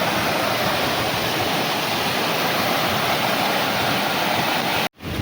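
Heavy rainwater rushes and floods through an area after days of heavy rain, a loud, steady roar of flowing water with no voices and a momentary break near the end.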